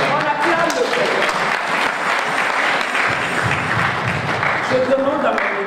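A church congregation at a women's day service applauds and cheers to acclaim the Lord, steady loud clapping filling the room throughout with voices mixed in.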